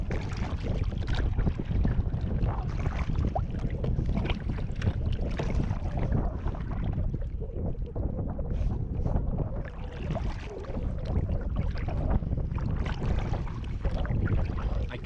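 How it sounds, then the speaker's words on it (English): Strong, steady wind buffets the microphone while kayaking off the Arisaig Skerries near the Rhu Peninsula, a continuous loud roar with gusty swells and water sloshing against the boat, no voices. "Probably hear that wind."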